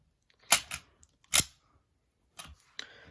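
A toy gun magazine snagged on carpet is worked loose, giving sharp plastic clicks and snaps: a quick pair, a single louder click, then two more spaced clicks, close and otherwise quiet.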